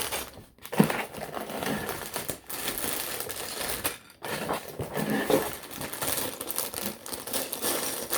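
A crinkly plastic parts bag for a Lego Ideas Gizmo set rustles and crackles as it is torn open, close and steady for several seconds with a couple of brief pauses.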